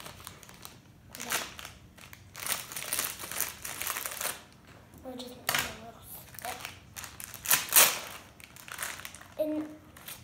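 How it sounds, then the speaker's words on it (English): Scissors snip and crinkle through Hot Wheels Mystery Models packaging in irregular bursts of crackly plastic rustling, close to the listener, with a voice heard briefly in between. "good thing I have the pair of scissors right here"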